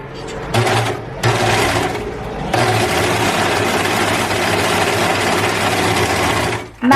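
A sewing machine stretch-stitches elastic onto trousers, its motor whirring in steady runs broken by short pauses, close and loud, with a voice talking briefly in between.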